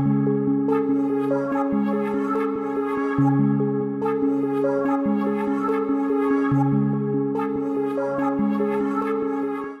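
A plucky, bouncy synth melody for a hip-hop beat repeats in a steady pattern, panned from left to right with ShaperBox and blended with Valhalla reverb. It plays alone at moderate volume, sustained notes sitting over quick rhythmic chops.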